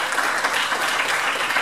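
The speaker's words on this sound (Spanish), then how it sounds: "Dale una ofrenda de palmas al Señor" Congregation clapping as an offering to the Lord during a Pentecostal church service, a dense, steady wash of applause from many hands sustained throughout without a break.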